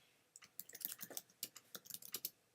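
Someone types on a computer keyboard, a quick run of crisp key clicks in an irregular rhythm, close and fairly quiet, with no talking.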